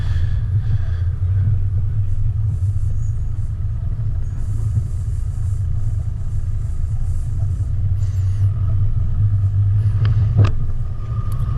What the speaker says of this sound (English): Always impressed with how easy the Padge drives up some of those obstacles